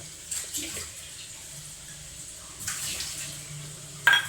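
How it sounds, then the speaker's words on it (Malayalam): Tamarind water pours into a pot of cooking aviyal in a couple of soft splashing bursts, the last one sharper, close by with a low background hum and no speech. "അപ്പോൾ നമുക്ക് കുറച്ച് പുളി ഒഴിച്ചു കൊടുക്കാം അതിനകത്തേക്ക്."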